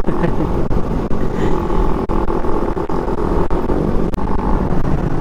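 A motorcycle engine runs with its stock exhaust, a loud, steady, rumbling idle close by at three in the morning, holding throughout with a few small dips and no talk over it.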